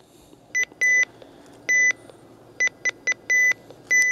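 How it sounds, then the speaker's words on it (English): A RadioShack 12-522 handheld radio gives short electronic signal reminder beeps in an irregular pattern, some single and some in quick pairs, clear and close against a quiet background hum. "Those beeps are the signal reminder."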